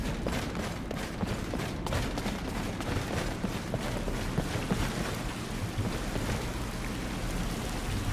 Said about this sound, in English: Oh, there's water leaking in everywhere.